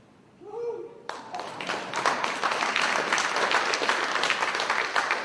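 An audience breaks into loud, steady applause and cheering, which starts abruptly after a brief moment of quieter sound and then carries on at full strength to the end.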